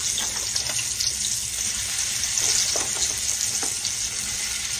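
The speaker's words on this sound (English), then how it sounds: "it's sizzling good now" Steak sizzles loudly in a hot pan, a constant crackling hiss with occasional pops and light clinks, close up and without talking.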